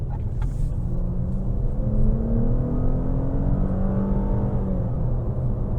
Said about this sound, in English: I got higher up in the RPMs than I was expecting, but that's sport mode for you.